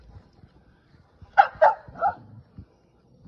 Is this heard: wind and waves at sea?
no